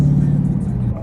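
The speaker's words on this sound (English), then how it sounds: "You hear my car roaring like the beast it is." Dodge Charger Scat Pack V8 with the mid muffler deleted gives a brief, loud, deep exhaust roar, steady and close for about a second before easing off slightly.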